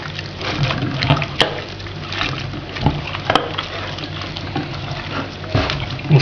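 Chunks of meat are stirred by hand in shashlik marinade, giving wet squelching and sloshing sounds in irregular bursts, close and fairly loud, with no one talking.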